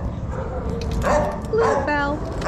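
Bluebell, a dog recovering from hip surgery, gives a couple of short yips and a whimpering bark close by, layered over a person speaking to her in a warm, cooing voice.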